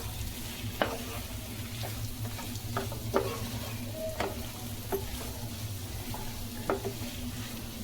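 Mutton ghee fry being stirred in a pan, a steady close sizzle of frying with scattered scraping clicks of the spoon against the metal, no voices.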